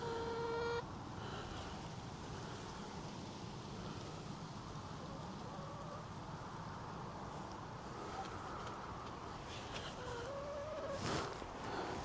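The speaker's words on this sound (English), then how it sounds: "Chickens, man." Chickens clucking on a morning walk, a soft, steady murmur of fowl under broad outdoor noise, faint and somewhat distant, with a brief higher call near the end.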